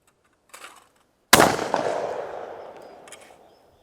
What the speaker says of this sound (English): So let's shoot our first shot.